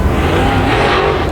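Late model race cars running a speedway heat race at Thunderhill Speedway, a loud continuous engine roar with tire noise filling the whole moment, no talk over it.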